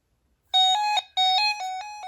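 Alert siren of a beige 2004 RadioShack 12-259 weather radio: loud, piercing electronic tone pulsing in short bursts, close up and alone.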